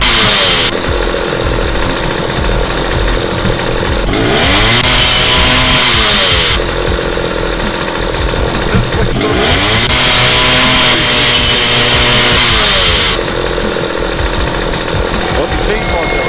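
In the video game Starforge, a chainsaw buzzes loudly and continuously, its harsh whine revving in repeated bursts over a constant mechanical drone, with someone talking over it.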